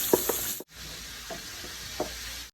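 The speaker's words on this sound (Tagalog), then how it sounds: "So maglagay na tayo ng butter sa ating pan." Butter sizzling in a frying pan while a mushroom sauce is being started, a steady soft hiss broken by a few brief stirring knocks and scrapes, with a short dropout partway through.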